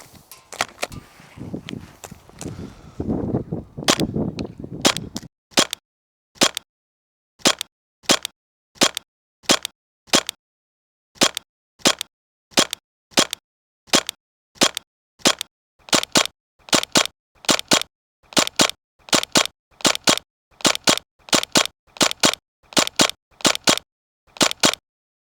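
Umarex VFC HK MP7 gas blowback airsoft gun firing 3.2 g BBs on red gas at a 30-metre outdoor range: after some rustling, roughly thirty sharp, loud cracks ring out, first spaced single shots, then quicker pairs.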